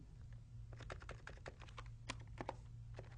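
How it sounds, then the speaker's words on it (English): Rapid, irregular keystrokes on a computer keyboard, typed up close in short bursts over a low steady hum, with no talking. "So I'm going to do some typing here."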